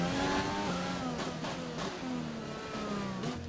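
Formula 1 car engine in the F1 2020 racing video game screams at high revs, steadily loud and continuous, with quick pitch dips and climbs as it shifts gears and works through corners.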